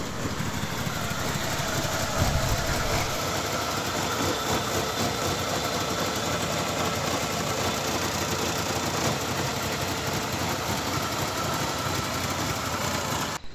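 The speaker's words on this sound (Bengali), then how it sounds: "এই হলো অবস্থা গাড়ির ইঞ্জিনের সাউন্ড" A car engine with a misfire runs steadily at idle, a loud, continuous rough drone with uneven knocking vibration throughout, close up and without talk.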